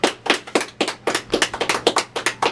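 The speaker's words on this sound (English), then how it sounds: "In studio audience, give everybody a round of applause here." A studio audience at a live show breaks into applause, close and loud bursts of clapping in uneven clusters, with no talking over it.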